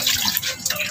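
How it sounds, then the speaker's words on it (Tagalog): A glass of water is poured into a pot of raw pork before boiling, a brief close splashing gush of liquid over the meat. "lagyan lang po natin siya ng isang basong tubig"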